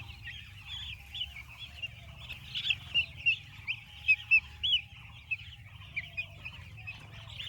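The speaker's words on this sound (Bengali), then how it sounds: "মুরগির বাচ্চা" Young chicks on a village poultry farm chirp and cluck in a cluster of short, high peeping calls, fairly close, over a low steady hum.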